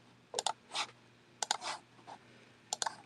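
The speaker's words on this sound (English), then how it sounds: "I'm sure you can hear me scrolling frantically." Computer mouse being scrolled frantically: quick clusters of sharp clicks and scratchy wheel rattles come in three bursts, close and fairly quiet, with short pauses between.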